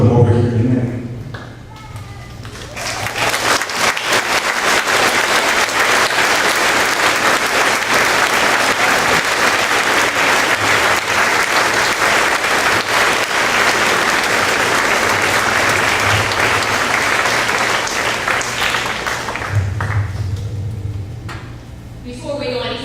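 An audience at a Veteran's Day event breaks into loud, sustained applause lasting around twenty seconds, dense clapping that swells and then fades, with someone speaking over the mic before and after.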